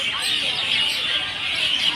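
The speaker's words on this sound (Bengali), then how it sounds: "শুনতে পাচ্ছ বন্ধুরা পাখির কলরব?" Birds chirping in a dense, steady chorus at dusk as they return to their nests near a park, a continuous high twittering that stays fairly loud throughout, with no talk.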